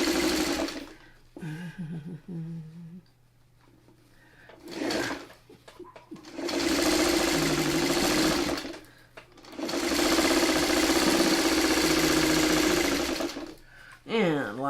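A sewing machine stitches fabric for a sewing pattern in loud, close bursts, each lasting a few seconds and separated by brief pauses with handling noises.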